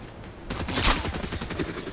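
Rapid bursts of gunfire in Fortnite crackle from several directions, loud and dense at first and then continuing as scattered shots across the clip, with no talking.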